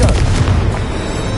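In the video game Hogwarts Legacy, a Confringo blasting spell explodes in a loud, deep boom that fills the whole moment and then rumbles on with a sustained, gradually easing roar.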